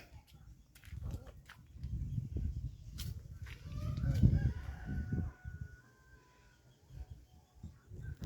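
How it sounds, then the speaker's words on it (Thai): A rooster crows a few times at a moderate distance, its call rising over a busy background of low rumbling, knocks and clatter. "ผู้ไก่ขัน"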